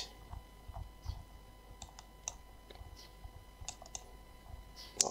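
Mouse clicks and keyboard presses while drawing lines in AutoCAD, faint and scattered as sharp separate ticks over a quiet background.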